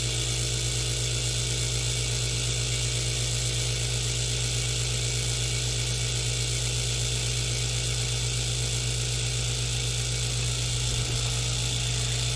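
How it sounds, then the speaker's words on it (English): A vacuum chamber pump runs steadily to degas freshly poured resin, giving a constant close mechanical drone with an unbroken buzzing hum for the whole stretch and no voices. "Alright, come on, vacuum chamber."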